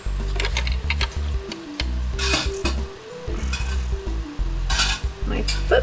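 A sewing machine stitches neoprene in quick runs of low, rapid mechanical whirring, stopping and restarting several times with small clicks and handling noises between bursts.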